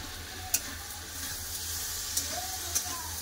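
Fried okra, potatoes and prawns go into spiced oil in a pan and sizzle steadily, with a constant close crackle and a few sharp clinks of stirring.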